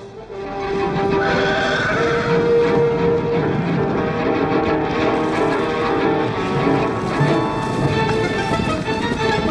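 A horse neighs and whinnies repeatedly close by, with hoof clip-clops and a steady background drone in a rural horse-breeding area.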